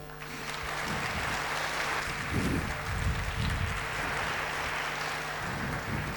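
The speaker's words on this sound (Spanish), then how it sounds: "Agradecemos a nuestro flamante expositor con un fuerte aplauso." Audience at a congress applauding a speaker, a sustained wash of clapping from a hall that holds steady for several seconds with a few louder swells.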